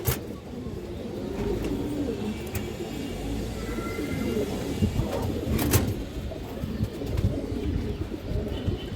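A khaki male pigeon of an old line coos softly and repeatedly at close range, over a steady background murmur with brief bird chirps and faint distant traffic.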